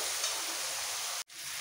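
Masala spices with sugar sizzle as they are sautéed in a pan for spinach chicken, a close, constant frying hiss that cuts out for a moment before resuming.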